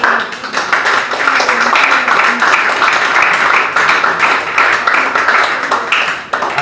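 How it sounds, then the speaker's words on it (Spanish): A church congregation applauds together at a Spanish-language worship service, a steady dense patter of many hands clapping that stays loud and even throughout, with a few voices faintly mixed in. "Denle un aplauso al Señor, hermano."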